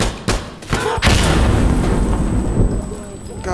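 Loud, close gunfire from the shooter game Insurgency Sandstorm: a few sharp, heavy shots in quick succession followed by a booming, reverberant rumble that lingers, with faint talk underneath.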